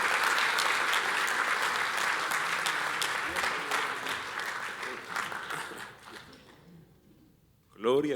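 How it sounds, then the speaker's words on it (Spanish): Warm, sustained applause from a church congregation welcoming a guest pastor, a dense wash of many hands that slowly fades after about six seconds, then a voice begins speaking. "Vamos a recibirle con un fuerte aplauso."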